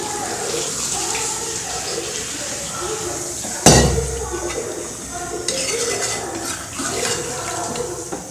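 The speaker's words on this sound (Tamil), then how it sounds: "இதில் நம்ம கொஞ்சம் தண்ணி ஊற்றிக்கலாம்." Water poured into Tamil Nadu style chicken curry, made without coconut, cooking in a pan. A sudden splashing gush comes midway among clinks of the pot and a background of kitchen noise and a talking voice.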